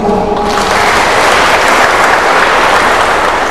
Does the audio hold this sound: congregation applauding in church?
yes